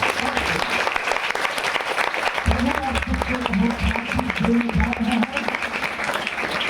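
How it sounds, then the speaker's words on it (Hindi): Congregation applauding in a church service, a dense steady wash of clapping that holds throughout, with a low sustained musical drone entering partway and voices mixed underneath. "प्रभु यीशु मसीह के नाम से जोरदार ताली बजाएं"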